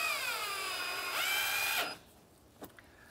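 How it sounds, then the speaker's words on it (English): A power drill drives a screw into plastic interior trim on a Honda Element, a loud steady whine that dips in pitch as the screw seats, then cuts off and is followed by a faint click. "we're going to put in this screw."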